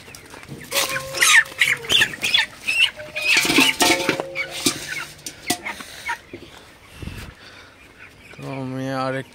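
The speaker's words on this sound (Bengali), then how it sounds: "তো আমি আরেকটা মুরগি নিয়ে দেখাই।" Broiler chickens at about three weeks old in a farm shed squawking and clucking loudly while being handled, with rustling and flapping close by in irregular bursts.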